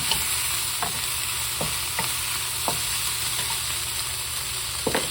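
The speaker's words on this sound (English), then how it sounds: "So you can see now everything is seared nicely." Beef sears in a hot pan for curry, giving a loud, continuous close-up sizzle with occasional scrapes and taps of a utensil stirring through the meat.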